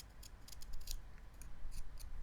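Scissors snip away at the top of a carved vegetable flower, giving a short run of crisp, close clicks in small bursts over a faint background.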